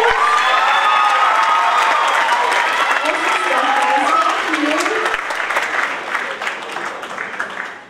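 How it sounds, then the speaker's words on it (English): A variety show audience breaks into dense applause and cheering, with shouts and whoops from a lively crowd mixed into the clapping. The sound stays loud and continuous, then thins slightly as it tails off. "give them a round of applause!"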